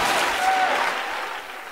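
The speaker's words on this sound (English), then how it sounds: "somebody clap their hands for that revelation" A church congregation claps during an apostolic sermon, a short burst of fairly soft, diffuse clapping that fades slightly toward the end.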